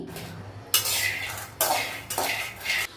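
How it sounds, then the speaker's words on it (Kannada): Peanuts poured into a pan for dry roasting make three quick rattling, clattering pours of nuts hitting metal, close and crisp, with short pauses between them. "ಒಂದು ಬಣಲೆಗೆ ಶೇಂಗಾನ ಹಾಕ್ತಾ ಇದ್ದೀನಿ"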